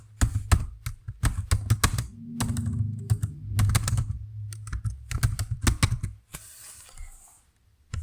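Close computer keyboard typing while code is entered, with rapid bursts of clattering keystrokes, brief pauses, and a quieter stretch at the end.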